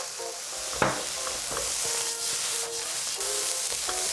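Rice and eggs stir-fried in a wok over high heat for Yangzhou fried rice give off a steady, close sizzling hiss, broken by a few sharp clinks and scrapes from the stirring utensil. No one talks.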